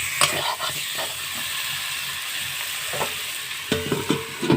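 Chicken pieces fry in a pot with a strong, continuous sizzle, broken by clattering stirs near the start and a burst of scraping toward the end, close by.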